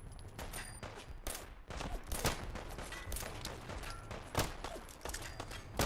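Gunfire from a weapon in Fallout London, a volley of irregular sharp shots and crackling bursts, some loud and close, others fainter, scattered over several seconds amid combat noise.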